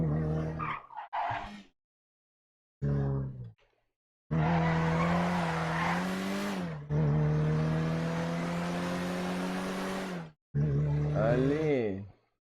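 A car engine drones in GTA V, holding a steady low hum in long sustained passes with short breaks between them, rising in pitch toward the end.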